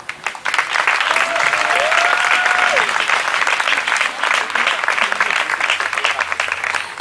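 A wedding congregation applauding to acclaim the Lord, sustained loud clapping from many hands with a few voices and a cry rising over it, close and continuous throughout.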